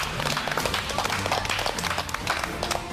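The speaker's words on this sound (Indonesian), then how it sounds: "Tepuk tangan, bapak-bapak, ibu-ibu." Applause from a small studio crowd during a cooking competition auction, a steady, busy wash of clapping hands with light crowd murmur mixed in, continuous and moderately loud throughout.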